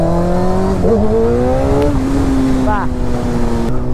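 A Suzuki GSX-R 1000 superbike's inline-four engine hums close by in a loud, steady drone whose pitch drifts slightly upward, then dips briefly near the end.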